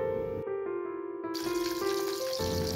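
Tap water runs into a bowl to soak prawns, a quiet, steady trickle and splash with a few shifts in the stream, no voices.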